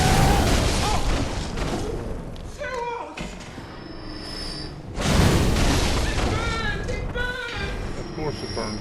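Fire sphere explosion in Bloodborne: two heavy, roaring bursts about five seconds apart, each followed by a sustained rumbling burn, with someone talking over the noise.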